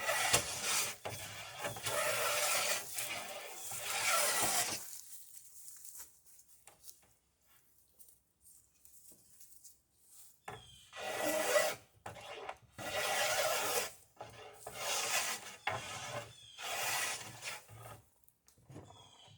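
A hand tool shaves facets off a wooden schooner spar being rounded, giving repeated close rasping strokes in bursts, with a quiet pause partway through.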